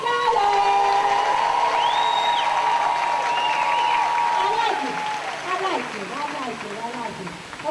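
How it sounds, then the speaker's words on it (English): An audience at a foundation event claps for scholars during a practice round of applause, with whoops and cheers rising over the clapping, then the noise thins as voices and chatter take over toward the end. "we're going to practice giving a round of applause"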